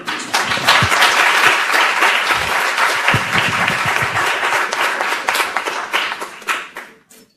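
Rousing audience applause after a talk, many hands clapping loudly and steadily for several seconds before tapering off and fading near the end.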